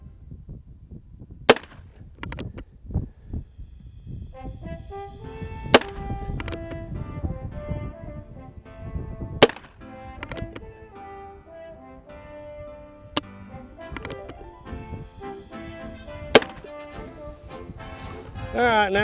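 A Heritage Rough Rider Rancher revolver fires five loud, sharp, widely spaced shots outdoors, each a crisp crack with a brief ring, while a person talks between the shots.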